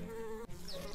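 A bee buzzes in the video game Secrets of Grindea, a short, close, whining drone that briefly cuts out before resuming.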